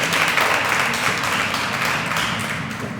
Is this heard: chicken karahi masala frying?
no